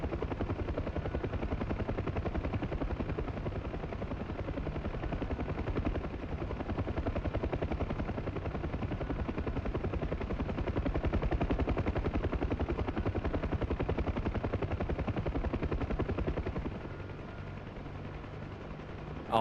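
A helicopter in a flight simulator game set over the Sinai drones loudly and steadily, its thick rotor and engine roar unbroken, easing slightly quieter near the end.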